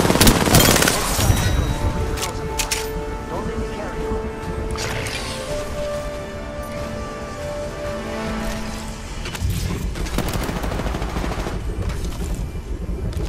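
Rapid bursts of automatic gunfire in the battle royale game Apex Legends, loud and close, with sharp shots clustering at the start and again near the end over a steady game soundscape.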